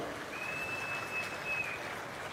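Audience at a political speech applauding, a dense, even wash of clapping from a crowd that holds steady at moderate loudness, with a thin sustained tone running through part of it.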